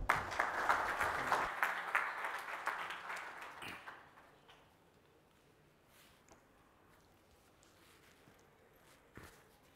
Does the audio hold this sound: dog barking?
no